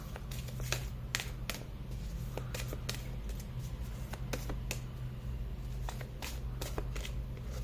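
A deck of cards shuffled and handled for a card reading, soft papery riffles and crisp flicks coming in irregular bursts over a low background hum, close and fairly quiet, with no talking.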